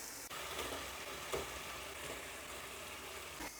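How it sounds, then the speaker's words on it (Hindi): Boneless chicken with a leg piece fries with onions in a karahi, a faint, even sizzle with occasional soft stirring knocks. "5 मिनट हम चिकन को फ्राई कर लेंगे।"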